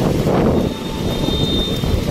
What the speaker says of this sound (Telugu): ఫ్లైట్ భలే లేచింది టేకాఫ్ అయింది